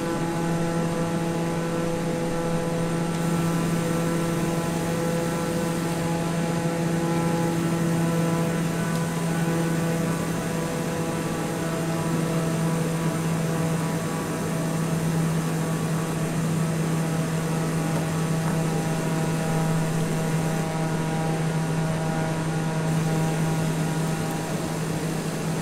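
An airplane engine droning in a flight video game, a steady, unbroken humming roar with a strong tonal whine that holds at even loudness throughout.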